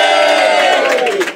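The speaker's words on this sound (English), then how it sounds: "Would you like to give her a cheer, everyone?" A studio audience of friends, family and fans at a live variety show lets out a loud, brief burst of cheering and whooping.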